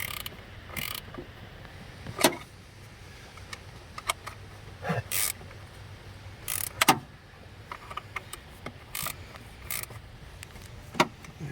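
A hand ratchet snugs up the mounting bolts of a MAP sensor on a 2001 Chevy Silverado 1500, giving short, scattered clicking bursts over a quiet background with no talking.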